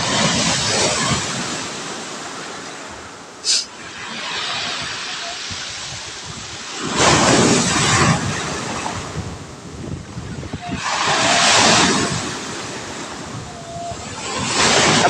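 Rough sea waves during a typhoon surge and crash repeatedly, with a constant roaring hiss of wind and water between the louder breakers.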